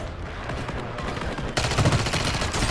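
Rapid gunfire bursts in the video game Warzone, including shotgun fire, crackle at moderate volume, growing denser and louder partway through.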